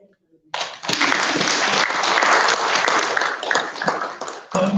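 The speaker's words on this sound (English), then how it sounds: "I join all the others in applauding you, the teachers." An audience at a World Teachers' Day event breaks into applause for the teachers, dense clapping that starts abruptly and holds steady for several seconds before a brief dip.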